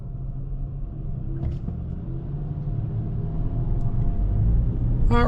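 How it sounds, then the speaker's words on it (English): A 2024 Toyota Corolla SE Hybrid with electronic all-wheel drive rolls down the road, heard from inside as a steady low rumble of road and tire noise that builds slightly, with a faint tap near the end. "now we're rolling down the road in this 2024 Corolla SE Hybrid with the electronic all-wheel drive"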